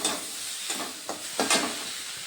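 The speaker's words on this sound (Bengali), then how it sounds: "মশলাগুলোকে ভালোভাবে কষিয়ে নেব।" Spices with Kashmiri chili powder and turmeric frying in oil while being stirred, a continuous close hiss broken by several distinct scraping strokes of the spoon.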